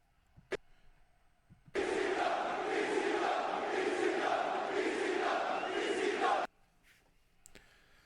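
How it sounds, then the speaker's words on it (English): Arena crowd at an AEW Dynamite wrestling event breaking into a loud, sustained chant that swells suddenly, holds steady for several seconds, then cuts off, with quieter ambient noise before and after. "And they're doing the chant"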